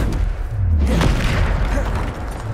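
A Bombarda spell explosion in the game Hogwarts Legacy, a loud booming blast with a deep rumbling tail that rolls on and sustains for a couple of seconds, heavy and close.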